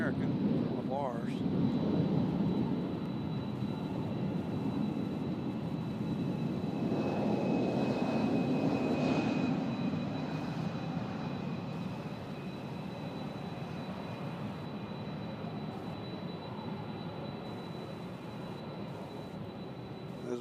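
An American Embraer regional jet at Louisville's UPS World Port airfield gives a loud, steady engine roar and rumble that slowly fades away, with people talking over it.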